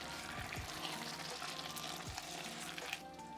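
Ratatouille vegetables with bay leaf and torn basil are stirred in a pot, a soft, low sizzle with occasional gentle scrapes and no talking.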